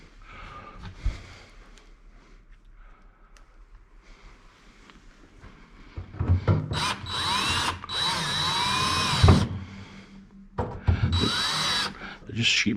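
A power drill drives sheet metal screws in bursts: a first whirring run for several seconds, a brief pause, then a shorter run, with quieter handling noise beforehand.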